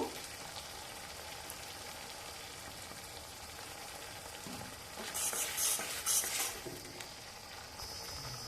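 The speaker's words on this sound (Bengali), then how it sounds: "এবার টমেটোর কাঁচা গন্ধ যাওয়া অবধি আবার মশলাটা কষে নেব" Tomato and spice paste stir-fried in a pan, a quiet continuous sizzle with scraping stirs, swelling into brief louder hissing bursts near the end.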